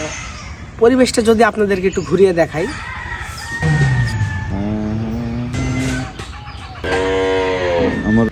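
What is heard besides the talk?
chickens clucking from a nearby poultry farm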